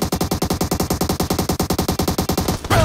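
Rapid automatic gunfire in the mobile battle royale game PUBG Mobile, a sustained loud burst of evenly spaced shots at a fast steady rhythm, about twenty rounds, heard alone before cutting off abruptly.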